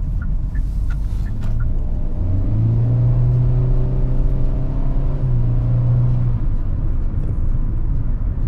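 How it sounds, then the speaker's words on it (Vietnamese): A Hyundai Stargazer accelerates from inside the cabin, the engine note rising into a strong, sustained revving drone for several seconds before easing off, with faint ticks early on. "Giờ mình thử khả năng tăng tốc ha."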